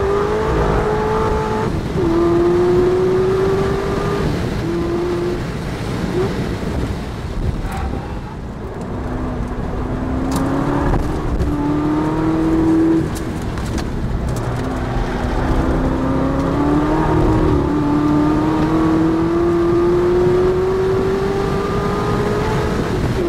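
An on-board Corvette ZR1 on Michelin Pilot Sport Cup tires laps the Nurburgring, its engine droning loud and near as the pitch climbs through each gear, drops at shifts and rises again, with no talk.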